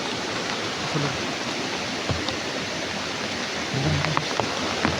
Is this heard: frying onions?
no